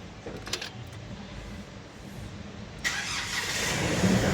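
A 2020 Nissan Terra engine cranks and catches near the three-second mark, the motor settling into a steady hum with faint rattling beforehand.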